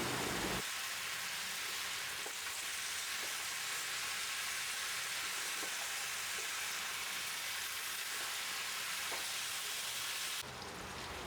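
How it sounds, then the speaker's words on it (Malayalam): Chicken sautéing in a pan for a Kerala-style chicken stew, a steady, close sizzle that holds evenly for about ten seconds with faint stirring, no talking. "ഈ ഒരു ചിക്കൻ ഈ ഒരു കളറ് മാറി ഒരു വെള്ള കളർ ആവുന്നിടം വരെ നമ്മളിങ്ങനെ വഴറ്റി കൊടുക്കണം."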